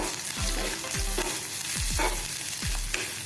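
Ginger, garlic and green chilli sizzle with turmeric and red chilli powder in a pan of oil for samosa filling. A spoon scrapes through the mixture in a steady rhythm of strokes, close and alone.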